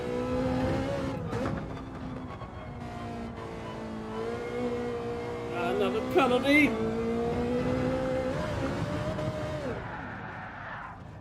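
Group 4 Ferrari race car engine in Gran Turismo 7, a steady droning tone that climbs and shifts with gear changes and a brief surge of revving, heard under a man's speech.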